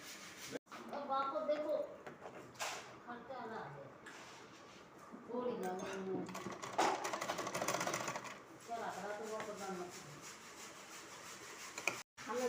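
A sewing machine running in close bursts as it stitches lace around the hem of a small Laddu Gopal dress, with someone speaking over it.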